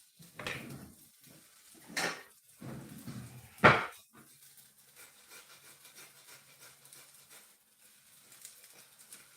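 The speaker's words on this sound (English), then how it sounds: "It's not grating very easily, but it's all right." Garden produce is rubbed on a hand grater in a few rough, scraping strokes that come irregularly and fairly quietly, followed by fainter scuffing and handling noises.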